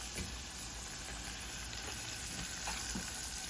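A whole stick of unsalted butter melts in a pan over medium heat, giving a soft, even sizzle and faint bubbling that holds steady, with no voices.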